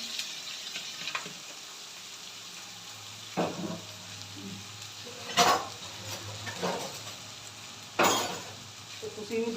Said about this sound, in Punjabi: ਗੰਢੇ ਤੇ ਆਲੂ ਕੱਟੇ ਸੀ ਮੈਂ ਭੁੰਨ ਲੈਂਦੇ